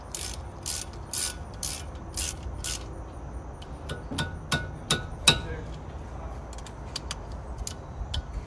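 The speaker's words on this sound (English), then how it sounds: "Take your ratchet, get back on there" A hand ratchet clicks in quick bursts while tightening lug nuts on a 2009 Prius, with sharp metallic ratcheting close by and a few clanks of tools against metal.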